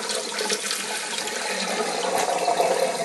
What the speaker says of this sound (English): Just changing the water again.